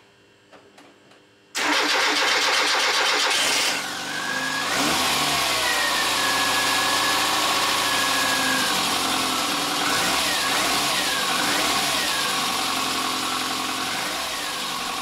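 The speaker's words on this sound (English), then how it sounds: "A dash more, and we can go for an engine start." An Austin Metro's A-Series engine, fresh from an oil change and with valve clearances still needing adjustment, cranks and catches after a near-silent start, then settles into a steady, loud idle with a slight rise in revs.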